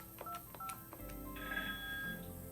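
Keypad tones on a Cisco MPP 508 desk phone during a blind transfer, a few short faint dialing beeps followed by a longer steady tone over a low background hum.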